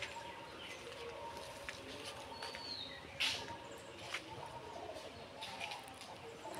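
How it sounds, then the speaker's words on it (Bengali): Pet pigeons kept at a house coo faintly in the background, soft low calls with a few chirps and a brief knock, quiet and distant with no talking. "ওই যে সাদাবের কবুতর।"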